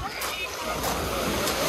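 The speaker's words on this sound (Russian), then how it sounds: "Послушайте шум моря. Крупная галька." Sea waves wash over a beach of large pebbles at Koktebel in Crimea, giving a continuous rushing, sloshing roar with faint stone rattle. Someone talks over it.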